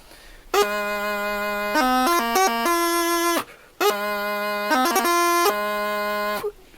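A bagpipe chanter plays two runs of a quick ornamented low G fosgalchi grace-note figure through B over a steady drone, each ending on a held note, with a short pause between.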